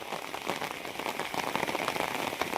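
Steady rain falls on a surface, a dense even patter of drops continuing alone at moderate loudness.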